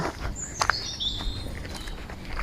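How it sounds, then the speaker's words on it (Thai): Birds sing softly in an autumn forest in Germany. A few faint, distant chirps and thin whistles come over quiet outdoor ambience, with possible soft footsteps and no talking. "เสียงนกร้องมาเบา"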